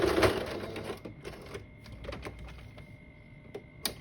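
A sewing machine straight-stitches the end of elastic on a scrub cap in short, uneven bursts of mechanical clatter, with handling sounds between the runs and no talk.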